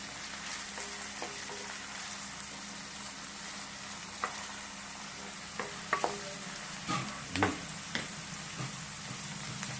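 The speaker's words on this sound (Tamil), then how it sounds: "தக்காளி தான் நல்லா வதக்கணும் தக்காளி கொஞ்ச நேரம்" Tomatoes sauté in a pan for rava kichadi, a steady close sizzle that runs throughout. Now and then a spoon stirring the pan gives a sharp clink or scrape.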